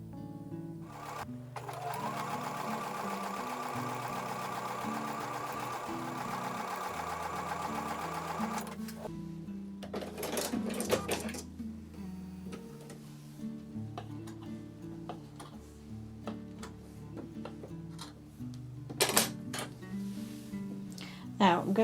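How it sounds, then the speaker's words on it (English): A sewing machine stitches quilt sashing with a 1/4 inch seam, its fast steady whir running for several seconds, then stopping and restarting in shorter bursts amid clicks and handling noise. "I'm going to take those over to the sewing machine and sew with a 1/4 inch seam"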